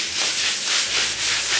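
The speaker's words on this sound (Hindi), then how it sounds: "सिर्फ खुरचने का काम जारी है" Hand scraping of surfaces during studio construction work, a close, steady hissing rasp in quick repeated strokes.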